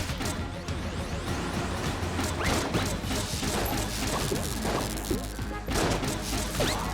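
Explosions and rapid gunfire in the video game Enter the Gungeon crash and pop in a dense, continuous barrage, loud and close throughout, with a voice talking faintly underneath.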